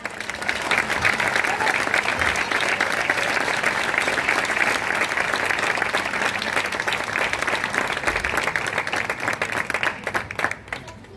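Applause from the crowd at an outdoor evening concert in a town plaza in Huesca, with dense, sustained clapping lasting about ten seconds before thinning out near the end, and a few voices mixed in.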